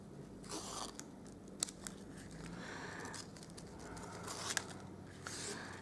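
Scissors snip through ribbon during a quick Easter gift wrap, with several crisp, close cuts spaced across a few seconds over quiet handling noise.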